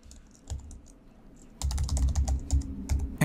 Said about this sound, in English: Type the password for your account,